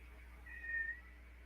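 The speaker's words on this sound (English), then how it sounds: "my cat is in the background somewhere walking around in here" A single cat meows faintly in the background of a quiet indoor room, one short drawn-out call rising briefly above a steady low hum.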